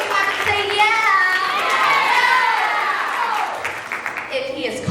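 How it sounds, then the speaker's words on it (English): A high school play audience claps and calls out a cheer together, a steady crowd noise holding for several seconds and easing off near the end. "If he's warm, you clap and say yeah."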